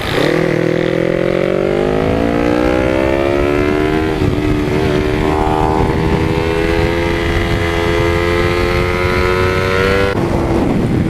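A loud R25 motorcycle engine revs and rises steadily in pitch as it passes fast, droning close and continuous for the whole stretch, then drops off abruptly near the end.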